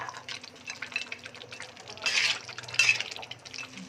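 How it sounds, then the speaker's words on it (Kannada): A pot of mutton biryani, 1 kg batch, boils with its water while being stirred: soft bubbling and wet scraping, broken by two brighter splashy swishes midway, fairly close, with no talk. "ನೋಡಿ ಈ ಥರ ಕುದಿ ಬಂದಿದೆ. ಇದಕ್ಕೆ ಚೆನ್ನಾಗಿ ತಿರುಗಿಸ್ಕೊಳ್ಳಿ."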